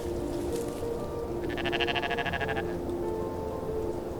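A mountain goat in a snowy mountain landscape bleats once with a wavering, pulsing call over steady, loud background noise.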